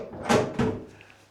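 A bathroom door in a small hotel room near Stansted Airport swings and shuts, with two quick close thuds followed by a fading rattle and a faint ring.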